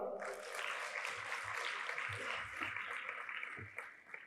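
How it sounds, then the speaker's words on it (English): An audience claps in a sustained burst of applause at a conference closing ceremony, dense and fairly loud, with some voices mixed in. "Let's give them a clap."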